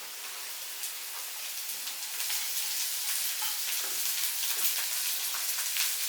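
Chopped onion, a small one, sizzles in a pan for a flattened rice kozhukatta, a steady soft crackle with scattered pops throughout, no talking.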